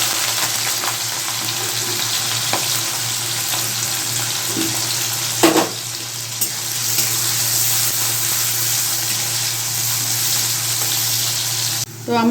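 Onions hiss and sizzle steadily in hot oil for a long, continuous stretch, with a brief clatter of stirring partway through.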